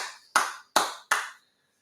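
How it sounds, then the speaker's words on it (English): Three sharp, evenly spaced hand claps, close and crisp with quick decays, followed by silence, on a college football talk show. "Let's clap it up for another week."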